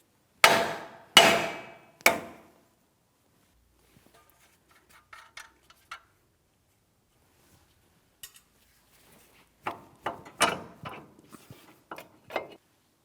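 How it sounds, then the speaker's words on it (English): A hammer strikes a steering knuckle on a 2007-2014 GMC Sierra 2500 HD to break a stuck tie rod stud loose. Three loud, ringing metallic blows come first, then a scatter of lighter, quicker taps after a quiet pause. "Or we can also tap along the steering knuckle itself. We're using a hammer for this."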